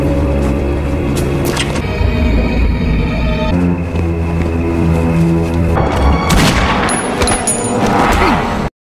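Loud, dense film-scene sound track in which a crew member is shot: heavy booming impacts and sharp bursts resembling gunshots, with sustained rumble and a cluster of crashing hits near the end.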